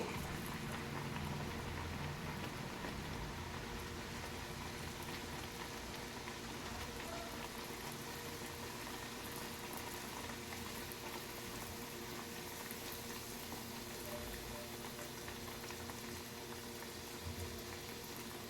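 Kesari puri deep-frying in hot oil makes a dense, continuous bubbling crackle that stays loud and even the whole time, with no voices.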